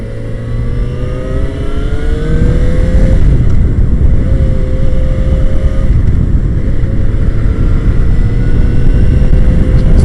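Yamaha XJ6F motorcycle cruising steadily at 40 mph, its engine drone loud and continuous with smooth pitch shifts as it gathers speed, heavy wind rush blended throughout.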